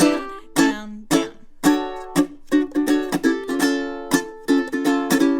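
Ukulele strummed quickly in a down-down-up-up pattern, bright plucked chords ringing with a steady driving rhythm, close and clear with no voice.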